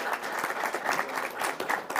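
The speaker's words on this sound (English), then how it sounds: "Let's give her a round of applause." Applause from an audience at a Denver civic event announcing a supportive housing program, after a congresswoman is introduced; steady, dense clapping for about two seconds with no talk on top.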